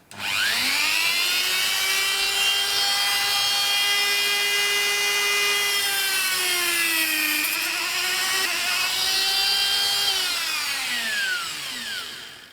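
A small rotary cutting tool trims the toes of a miniature model. Its high whine holds steady and dips in pitch as it bites under load, then winds down at the end. No one speaks.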